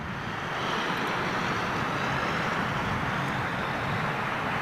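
A KLM Embraer 190 jet in revised livery passes overhead, its engines a steady broadband roar that rises slightly and holds loud throughout without a break.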